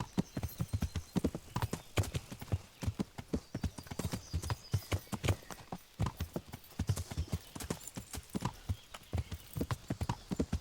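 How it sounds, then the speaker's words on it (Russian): Horse hooves clip-clop at a steady trotting rhythm in the medieval game Kingdom Come: Deliverance, sharp close hoofbeats continuing for the whole stretch with an occasional neigh, no talk. "А я сяду на своего коня."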